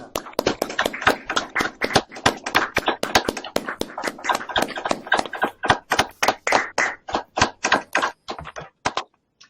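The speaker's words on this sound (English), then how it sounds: "give a round of applause for Todd, Sergio and Eleanor." Many pairs of hands clap over a video call in a rapid, uneven patter, crisp and close, the claps thinning and spacing out toward the end before stopping.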